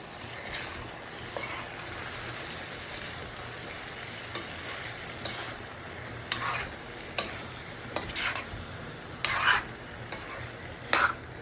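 Drumstick and potato tomato curry being stirred in a pan, a continuous soft sizzle punctuated by a series of sharp spoon scrapes and clinks against the metal that come closer together toward the end.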